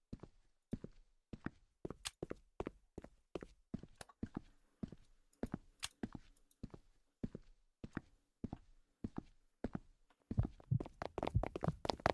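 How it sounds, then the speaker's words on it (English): An Oni ghost walks in the ghost-hunting game Demonology, its footsteps a steady run of sharp, evenly paced thuds that grow quicker and louder at the end as it closes in, with no talking. "Onis are pretty easy to identify, just loop them and just listen to their footsteps"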